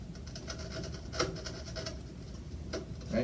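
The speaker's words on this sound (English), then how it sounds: "just bring your chisel in" A wood chisel pares out a small hinge recess in a box, giving faint, close scraping and rasping strokes in short repeated bursts.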